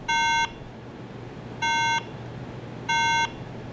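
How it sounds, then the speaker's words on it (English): Three identical electronic beeps from an iMac at startup with its RAM not seated correctly, each a steady tone about half a second long, evenly spaced and clear over a low hum. "If your RAM is not seated correctly, it will beep like this at startup."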